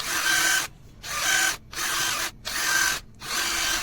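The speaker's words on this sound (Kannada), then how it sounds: "ಈ ರೀತಿ ಡ್ರಿಲ್ಲಿಂಗ್ ಮಾಡ್ಕೊಳ್ಳಿ ಎಲ್ಲ ಕಡೆ" A power drill bores holes around a homemade toy tractor-trailer wheel, whining in four loud, close bursts separated by brief pauses.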